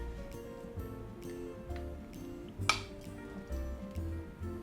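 Fried beef filet strips added to a pan of Madeira sauce, heard as a sharp metallic clink of utensil on pan over a low simmering bubble, with soft stirring taps and faint background noise.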